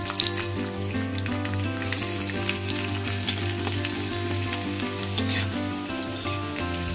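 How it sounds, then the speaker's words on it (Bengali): Continuous sizzling of chana dal and curry leaves frying in oil, with occasional stirring, over soft background music. "কারি পাতাটাকে ভেজে নিয়ে ছোলার ডালটা দিয়ে দিচ্ছি।"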